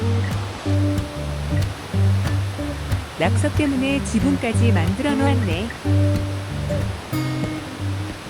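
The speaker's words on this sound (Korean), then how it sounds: "졸졸졸 흐르는 물소리가 아니고 우르르 내려오는 소음 수준이다" Loud, steady roar of a rushing mountain stream close by on a rainy hiking trail, with someone speaking over it at intervals.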